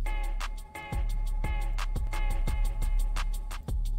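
A DJ echo effect on a playing song, with a steady beat whose hits repeat and trail off, moderately loud and with no talking.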